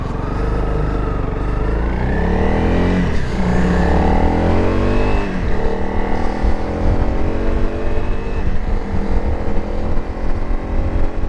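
A 2023 Honda CRF300L single-cylinder motorcycle engine runs loud and close, its revs rising and falling in sweeping waves before settling into a rough, steady throb.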